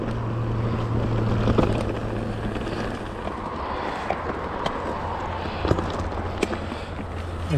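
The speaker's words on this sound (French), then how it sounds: "Un bruit cette autoroute." Highway traffic below a chapel roars as a steady, dense rumble with a wind-like hiss, broken by faint passing whooshes and brief louder surges.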